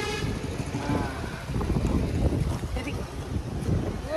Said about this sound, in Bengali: অ্যাস্থেটিক ভাবে হাওয়া দিচ্ছে